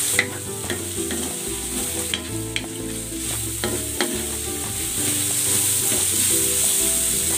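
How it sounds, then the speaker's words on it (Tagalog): Carrots and Baguio beans sizzle in a hot pan as they are sautéed, a steady frying hiss broken by repeated scrapes and clinks of stirring, growing slightly louder toward the end. "Igigisa ko na tong carrots. At itong Baguio beans."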